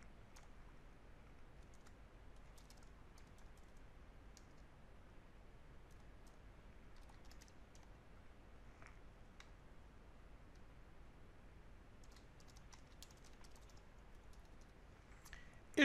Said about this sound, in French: Je vais taper mes identifiants.